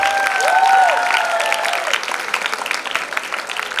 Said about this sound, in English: Come on guys, can we have a huge round of applause?